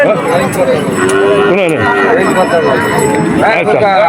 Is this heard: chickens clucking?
no